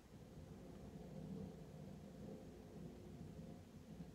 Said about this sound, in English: That's some crazy thunder.